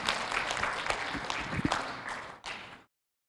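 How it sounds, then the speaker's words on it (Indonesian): Audience applause at a children's education and literacy program event in Kupang, Indonesia, steady dense clapping for almost three seconds, fading with a short final burst before cutting to silence. "Sekali lagi tepuk tangan untuk kita semua."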